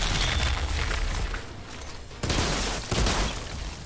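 Weapon fire in the video game Outriders, a dense fusillade of rapid shots and booming impacts that dips briefly and then surges back in loud bursts.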